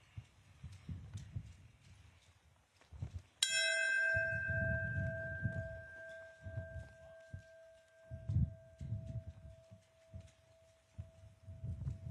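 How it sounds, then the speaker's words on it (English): A single memorial bell strikes once at a memorial ceremony for the Flight 587 crash, ringing out with a long sustained tone that slowly fades, while low murmuring and rustling continue around it. "we'd like to do a tolling of the bells"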